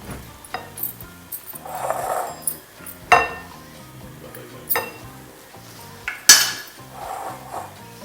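Chicken marinade of spices, ginger-garlic paste and lemon juice mixed with a hand beater in a metal bowl, giving repeated clinks and rattles against the bowl with a few louder knocks.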